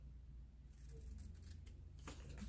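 Scissors snip through decorative planner tape with a couple of quick, crisp cuts near the end, very close and faint over a low background hum.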